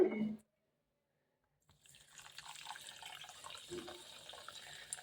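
Black sesame seeds being washed in water: after a brief sound and a silent gap, steady splashing and trickling of water with small sloshes continues, close and fairly soft.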